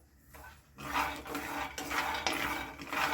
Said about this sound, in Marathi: म्हणून मंद आचेवरच शेंगदाणे आपण भाजून घेऊ